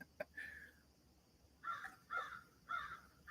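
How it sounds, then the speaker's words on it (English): A crow caws outdoors in the morning, about five harsh calls spaced over a few seconds, sounding fairly distant and alone against a quiet background. "We got that crow. Can you guys hear that crow?"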